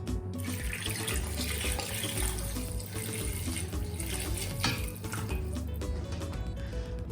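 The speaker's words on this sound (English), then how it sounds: "I'm going to add in, I would say, 2 cups of water." About two cups of water run and splash steadily into a cooking pot, a continuous rushing pour with shifting tone, close and fairly loud with no talking.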